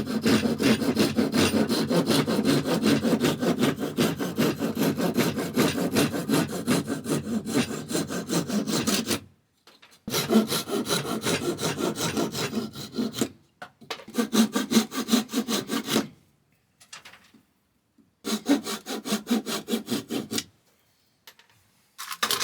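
Hardwood pieces for a book rest being sanded by hand, with steady back-and-forth rasping strokes that run continuously at first, then come in shorter bursts separated by pauses.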